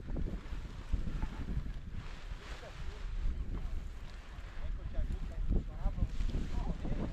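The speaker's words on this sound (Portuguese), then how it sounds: "Ô Renato, o vento tá entrando aqui lateral, então é pra lá que tu vai ter que correr." Steady wind rushes across the microphone at an open-air paragliding launch site, a continuous low roar with gusty swells, and a voice speaks faintly underneath.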